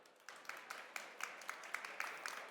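Audience applause for a panel of doctors on stage, a fairly faint, steady patter of many hands clapping from some distance, continuing evenly throughout.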